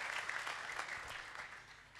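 Applause from a church congregation, a steady wash of many hands clapping at moderate distance, slightly faint and sustained throughout without speech.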